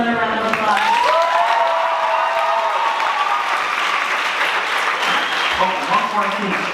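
Applause from a student leadership conference audience fills the hall, with a voice speaking over the clapping at the start.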